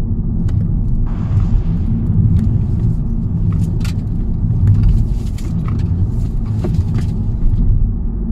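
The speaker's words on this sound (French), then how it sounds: "je me mets à 60, je vais faire des virages." A Mercedes A-Class cruising at about 60 km/h through a series of bends, heard from inside the cabin as a steady, loud low road-and-engine rumble with faint ticks and creaks, and no voices.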